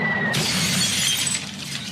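A stylish glass coffee table shatters after being thrown off a 20-story building, one loud sudden crash followed by a spray of tinkling fragments that quickly settles, with no voices.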